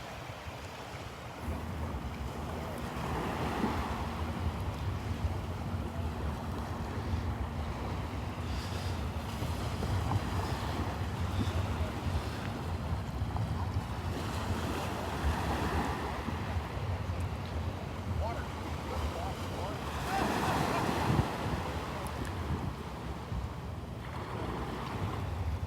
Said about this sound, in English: a boat heads out the channel, out the mouth of Wiggins Pass